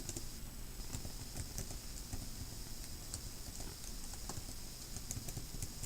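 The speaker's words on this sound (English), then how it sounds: "So we're going to type PowerPoint" Fast, steady key clicks from someone typing on a computer keyboard, close and quiet with no talking.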